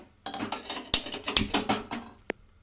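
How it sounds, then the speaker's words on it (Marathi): A gas stove being switched on in a home kitchen while palak paneer is cooked: a few sharp clicks and knob taps, close and loud, with one brief bright tick near the end. "तर मी गॅस चालू करून घेते।"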